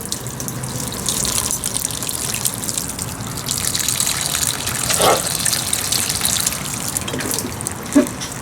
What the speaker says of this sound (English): it's trickling from one plant to the other, one pot to the other